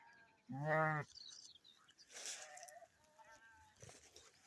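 Sheep bleat in one loud, close, sustained call early on, followed by fainter, more distant bleats from a small flock at a stream-side gully in open grassland, with someone talking quietly over them.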